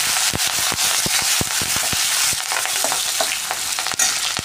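Garlic, ginger and curry leaves sizzle loudly in hot frying oil for a paneer dish, a steady bright crackle broken by sharp pops and spatters, close and continuous with no voices.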